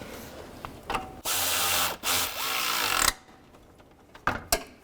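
Ratchet wrench tightening the engine mount bolts on a 2006-2011 Cadillac DTS, close rapid clicking bursts with short pauses and a few sharp knocks at the end.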